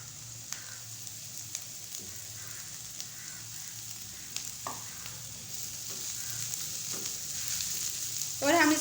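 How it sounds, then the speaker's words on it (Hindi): Raw chicken, about 200 grams, sizzles and fries steadily in a pan for chicken buns, with occasional stirring clatters and a louder burst of sizzle near the end, no voices. "अब हम इसमें डालेंगे 1 कप चिकन, यानी 200 ग्राम"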